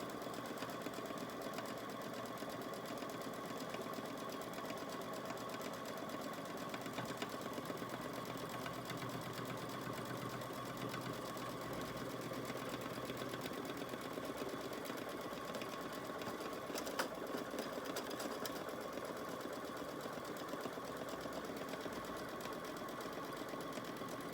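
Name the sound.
embroidery machine stitching a medical mask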